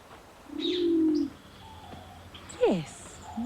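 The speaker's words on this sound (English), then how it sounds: "the Torres Strait pigeon, cooing amongst the leaves" A Torres Strait pigeon cooing among leaves in a garden, a loud low drawn-out coo followed by softer, higher chirping calls and a short swooping note nearby.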